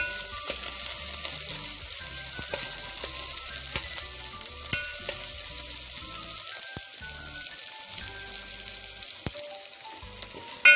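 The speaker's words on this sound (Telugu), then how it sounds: "ఆనియన్స్ బాగా ఫ్రై అవ్వాలండి." Onions frying in oil in a pan for moong dal curry, a close, continuous crackling sizzle with small popping bursts and light stirring clicks, no talking.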